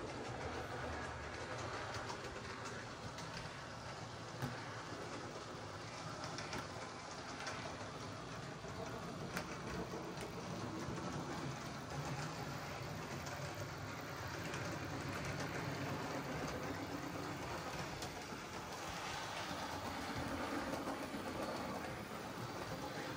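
A model train locomotive with four wheels on each side runs around the curves of a layout track, giving a steady continuous rolling clatter throughout, moderately close with no talking.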